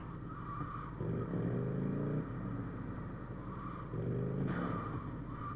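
A motorcycle engine in GTA Liberty City rumbles and revs twice, rising and easing off in two surges over a steady low drone.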